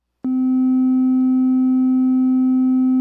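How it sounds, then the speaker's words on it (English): A pure sine wave tone from a Behringer UV300 synthesizer starts abruptly and holds steady and loud, one unwavering pitch with no vibrato, alone without voices. "I'm going to demonstrate it first by using a simple sine wave"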